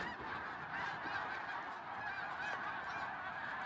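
A large flock of geese at Baie du Febvre, Quebec, honking in a continuous dense chorus from a distance, many calls overlapping without pause.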